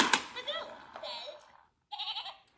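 A young child imitates a goat, giving a wavering, bleat-like vocal "meh" at close range, then a second shorter bleating call after a brief silence.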